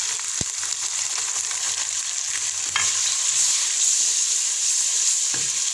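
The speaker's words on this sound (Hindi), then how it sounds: "हमने टमाटर शामिल करके इनको भून लिया" Two tomatoes sizzle and fry in a pan with garlic paste for palak chicken, a steady close hiss broken by a few sharp stirring clanks, with no talking.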